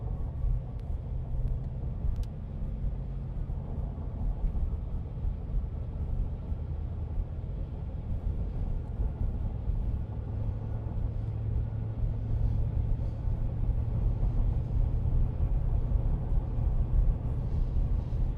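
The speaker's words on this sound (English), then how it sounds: "Let's get on the highway now and let's see how this thing accelerates into the on-ramp." A 2025 Ford F-350 pickup accelerating up a highway on-ramp, heard as a steady, deep engine and road rumble from inside the cab that builds slightly toward the end, with no talking.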